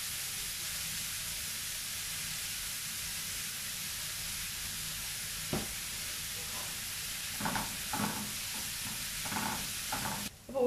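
Sliced onions with a pinch of salt fry steadily in a pan, a constant broadband sizzle with a few louder stirring scrapes near the end, close and alone with no talk.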